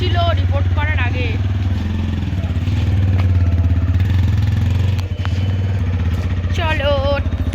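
A motorcycle rides along a road at low speed, its engine a continuous loud, low throb from up close, with a person talking over the engine noise.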